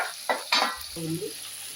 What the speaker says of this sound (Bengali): জিরা ফোড়ন দিলাম কাঁচা লঙ্কা কয়েকটা